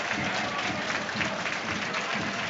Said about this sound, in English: The Livingston fans round about us rising in applause